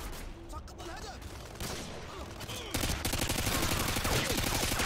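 Modern Warfare 2 (2009) on Xbox, in an online private match: dense, continuous gunfire rattles loud and close, building into a sustained volley of rapid shots over the second half.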